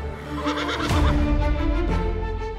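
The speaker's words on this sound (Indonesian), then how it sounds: "mereka adalah kuda sandalwood, kuda pacu khas Indonesia yang dikembangbiakan di tanah Sumba" Sandalwood horses, an Indonesian racing breed raised on Sumba, neigh loudly and close by in one long, shaky whinny that rises, then trails off over a rumbling background.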